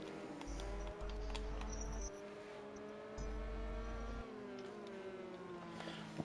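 Race cars in a racing video game, with an AI car making an overtake, drone past with layered engine notes, a near car's steady whine and bursts of another engine rising alongside, moderately quiet.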